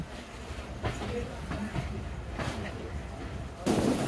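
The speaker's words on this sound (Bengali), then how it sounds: "আন্তনগর বাংলাবান্ধা এক্সপ্রেস ছেড়ে গেল রানীনগর রেলওয়ে স্টেশন থেকে" The Banglabandha Express intercity train pulls out of Raninagar railway station, a low rolling rumble of wheels on rails with faint clacks, growing louder near the end.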